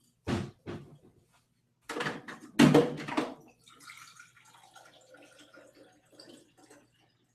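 Indoors, a cupboard or door clunks a few times before water runs from a tap into a glass, a soft, uneven trickle lasting several seconds.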